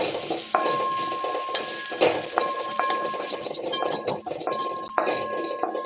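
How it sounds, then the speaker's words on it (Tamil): Grated coconut roasting in a metal pan for a hotel-style chicken gravy, with a soft sizzle under repeated scraping and clinking strokes of a spoon against the pan, close and fairly loud. "தேங்காய் நல்லா பொன்னிறமாக வர அளவுக்கு அதை வறுத்து எடுத்துக்கிடுங்க"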